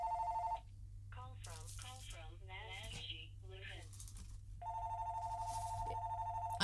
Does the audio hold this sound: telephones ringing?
yes